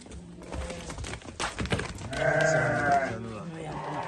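Sheep of a Hissar-type or Dorper breed bleat repeatedly at close range, several loud, drawn-out calls rising over a background of people talking.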